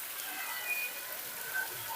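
Heavy rain pours onto a street in Lahore, a steady broadband hiss of drops hitting the ground with no voices over it.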